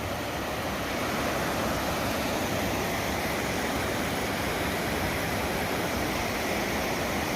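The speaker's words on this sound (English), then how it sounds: "now we have like rapids going on here" Floodwater surging down a creek that has burst its banks after a hurricane, roaring like rapids near a bridge; a steady, loud, broadband rush fills the whole stretch without pause.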